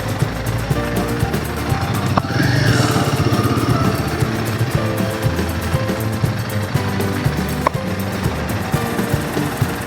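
A Royal Enfield Himalayan 450 motorcycle with a lowered seat rides by, its single-cylinder engine thumping in a loud, steady close rumble that briefly rises in revs, with some road and wind noise.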